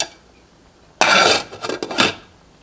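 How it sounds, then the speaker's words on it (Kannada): A metal lid set onto a cooking pot of simmering alasande kaLu (black-eyed pea) masala curry, a sharp clatter followed by a few quick rattling knocks, close and loud after a quiet start. "ಮುಚ್ಚಳ ಮುಚ್ಚಿ"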